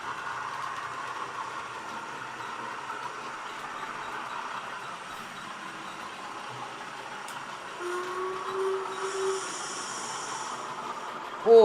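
A model railway locomotive hauling a freight train on a modular layout gives off a steady, low running hum and rattle. It continues evenly for the whole stretch with no talk over it.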